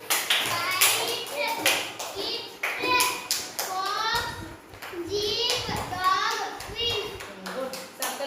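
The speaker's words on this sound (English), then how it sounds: "Next, clap for Vaibhav." Classroom of children clapping together for a classmate during a beginner consonants lesson, a quick run of sharp, close hand claps mixed with excited kids' voices and chatter throughout.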